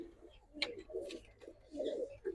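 Pigeons, including Racer and highflyer birds, coo softly in low throaty bursts close by, several overlapping calls with brief flutters and rustles in between.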